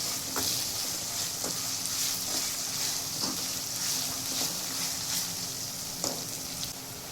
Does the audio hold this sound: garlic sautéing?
yes